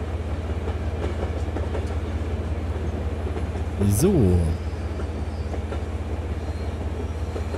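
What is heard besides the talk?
train running in the video game Zompiercer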